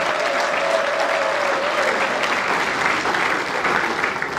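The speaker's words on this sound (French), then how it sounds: "J'aimerais qu'on applaudisse très très fort pour elle," A wedding celebration audience in Kinshasa claps loudly and steadily for the whole stretch, with faint voices mixed into the dense clapping.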